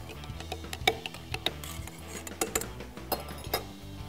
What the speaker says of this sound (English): And I'll give it another stir.